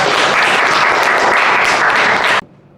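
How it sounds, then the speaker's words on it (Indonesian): Loud audience applause in a university teaching session, a thick burst of many hands clapping close by that holds steady then cuts off abruptly near the end. "Tepuk tangan dulu, Zara"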